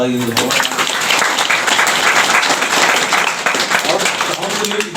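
Clapping from an audience at a Sarna prayer gathering, a dense burst of applause that follows a short spoken phrase and stays loud and steady.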